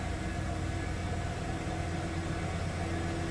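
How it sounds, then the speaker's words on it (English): A stock 5-liter 1994 Ford F-150 pickup engine idles with a steady, low hum throughout, close by and unchanging, with a faint whine above it and no talking. "Sounds like a stock 5-liter 1994 F-150."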